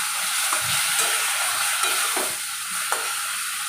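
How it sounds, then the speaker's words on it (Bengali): Tomato paste with ground spices being stirred and fried slowly over a low flame in a pan for a Bengali katla patol jhol, giving a steady close sizzle with soft scraping stirs and a few sharper clinks. "এবার একদম আঁচটা কমিয়ে আস্তে আস্তে করে ভালো করে কষবো।"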